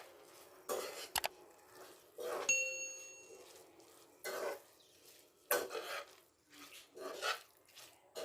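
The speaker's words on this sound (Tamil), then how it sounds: "இப்போ இதெல்லாம் சேர்த்து நல்லா கலரி கொடுத்துக்கலாம்." A metal spoon scrapes and clinks in a pan while mushroom masala is stirred, a scattering of separate close scraping and tapping strokes with quiet gaps between them.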